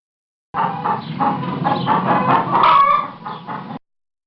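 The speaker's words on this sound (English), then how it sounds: "Hen." A hen clucks in a steady run of short, throaty calls, close and fairly loud, with a brief rising squawk near the end.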